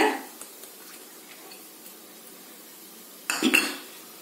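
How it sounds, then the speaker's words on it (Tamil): Spoon scraping and clinking against a pan while masala idly stuffing with coriander leaves is stirred, mostly soft sparse taps with a louder burst of clatter near the end. "இது மாதிரி ஒரு 2 நிமிஷம் நல்லா கலந்து விடுங்க"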